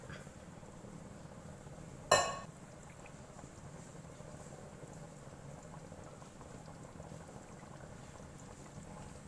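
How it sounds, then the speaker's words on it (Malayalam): A pot of bitter gourd fish curry with coconut milk simmers in a soft, steady, low bubbling hiss, broken once early on by a single sharp clack. "അപ്പൊ നമ്മുടെ പാവയ്ക്ക മീൻകറി തിളച്ച് കഴിഞ്ഞിട്ടുണ്ട്"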